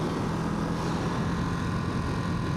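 A 2025 Ducati Monster Plus engine while riding: a steady, loud, continuous drone with a constant low hum and broad rushing noise, unbroken for the whole stretch.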